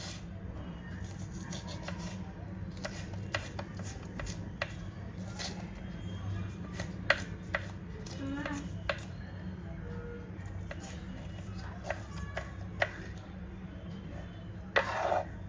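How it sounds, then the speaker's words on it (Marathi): A knife chops onion into small pieces on a board, a long series of light, sharp taps at an irregular pace, fairly faint over a steady low background hum. "जे कांदा आहे तर तो छोटा छोटा कापून घ्यायचा आहे"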